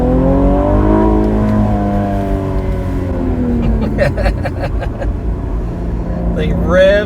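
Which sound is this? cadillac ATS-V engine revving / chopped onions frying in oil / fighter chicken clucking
cadillac ATS-V engine revving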